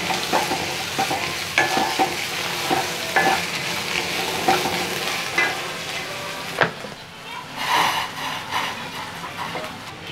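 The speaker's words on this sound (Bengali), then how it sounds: "এটাকে আবার একটু ভালো করে ফ্রাই করে নেব।" Chopped onion and green chilli with carrots sizzle steadily in a hot pan, a spoon stirring and scraping through them in repeated close strokes, with a brief lull of quieter frying near the end.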